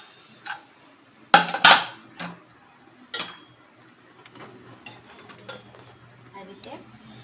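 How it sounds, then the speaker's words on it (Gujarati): A pressure cooker of boiled mango seeds is opened with a couple of sharp metallic clanks of lid and pot, then softer utensil clinks and scrapes follow at close range. "હવે આપણે કુકર ખોલી જોઈ લઈશું કે ગોટલી બફાઈ ગઈ છે કે નહીં."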